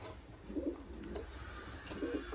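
Pigeons of the Şami and Adana breeds coo in a loft, soft low coos repeating a few times at moderate distance over a steady background hiss.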